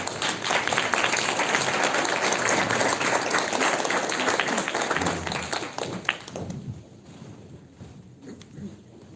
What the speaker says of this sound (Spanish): Les damos un aplauso, por favor, a nuestros compañeros.